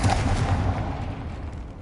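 A Confringo fire spell from the Hogwarts Legacy video game explodes with a loud booming blast at the start that decays into a fading rumble.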